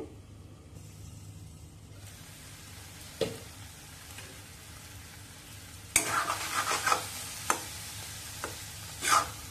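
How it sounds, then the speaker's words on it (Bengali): Ash gourd curry being stir-fried in a pan, Bengali village style, with a faint low hum early on, then scraping stirs and a few sharp clatters of a spoon or lid, no talk. "এবার একটু ঘন ঘন ঢাকা তুলে তুলে কষতে হবে"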